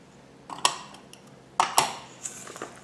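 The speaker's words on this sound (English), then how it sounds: "And we mix all this up" Cauliflower crust ingredients with garlic powder, salt and pepper being mixed in a bowl: a few sharp clinks and scrapes of a utensil against the dish in two short bursts, close and fairly quiet, with no talking.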